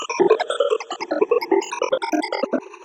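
Unfiltered psytrance synth lead playing a quick, choppy melodic phrase of short bright stabs with buzzy overtones, steady and close for about three seconds, with no voices.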